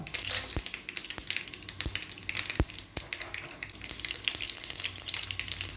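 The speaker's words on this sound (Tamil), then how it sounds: "லேசாக தாளிப்புக்கு எண்ணெய் விட்டுக்கலாம். தாளிப்புக்கு கடுகு உளுந்து சேர்த்துக்கலாம்." Mustard seeds and urad dal tempering in hot oil, a steady close crackle and hiss broken by several sharp popping spits scattered through, with no talking.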